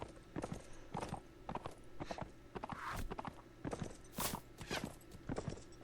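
Horse hoofbeats from Mount & Blade: Warband, a steady clip-clop of a slow-moving horse with repeated hoof strikes that stay close and fairly loud throughout, with no talking.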